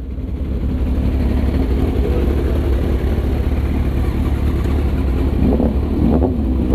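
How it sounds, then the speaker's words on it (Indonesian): A motorcycle engine revs hard at a school gathering, a loud, continuous low-pitched roar that holds steady throughout with a slight rise near the end. "Geber dalam, geber dalam."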